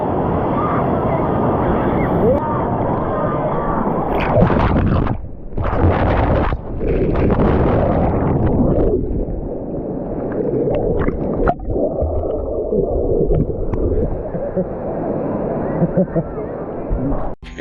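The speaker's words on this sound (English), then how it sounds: "And it's just one huge wave that comes out." A huge single wave surges and crashes in the Typhoon Lagoon wave pool at Disney in Orlando, a loud sustained roar of churning water with wind, with bursts and breaks as the surf rolls through and people body surf on it.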